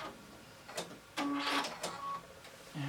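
Sewing machine running in short bursts while back-stitching face mask fabric, quiet mechanical whirs and clicks separated by brief pauses.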